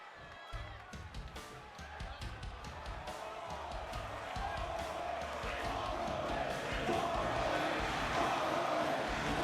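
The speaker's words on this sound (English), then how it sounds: "as you hear the UWF crowd, they know exactly who this is and where he's exactly from" A wrestling event crowd roars and cheers in an arena, swelling steadily louder and fuller, with sharp claps and thuds early on and commentary over it.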